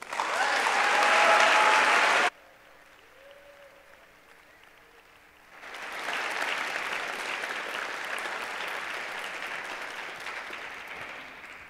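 Audience applause welcoming Dr. Fred Van Dyke: a loud burst of clapping, a brief lull, then a long, steady swell of enthusiastic clapping from a large crowd that carries on to the end.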